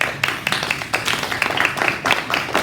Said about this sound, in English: we clap for refreshments